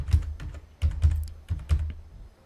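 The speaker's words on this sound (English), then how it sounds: "Now type your computer password," A password is typed on a computer keyboard at an Ubuntu terminal: a run of distinct, close keystrokes in uneven bursts, clicking and thudding with short pauses between groups.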